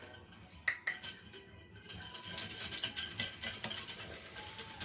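Flour is stirred into lasagne sauce with a utensil scraping and clinking against the pot, at first in sparse taps, then in a quick, steady rhythm of close metallic strokes, with no voices.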